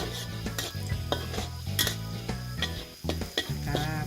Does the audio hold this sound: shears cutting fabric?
no